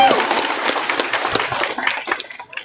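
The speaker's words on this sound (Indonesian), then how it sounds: "aplaus buat Bapak Ibu guru semua" Applause for the teachers at the opening of a CS50x Indonesia–Harvard workshop: dense, continuous clapping from an audience, fairly loud and steady, with a voice audible through it, easing slightly toward the end.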